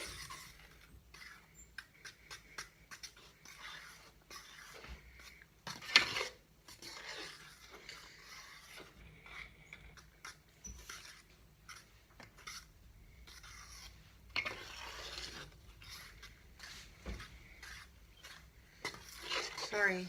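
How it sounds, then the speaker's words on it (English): A fork scrapes and clicks against a bowl while mixing flour for buttermilk cornbread, a quiet, steady rhythmic scratching that keeps going with small louder strokes now and then. "I'm going to use my fork instead of the spoon because it will mix my flour better"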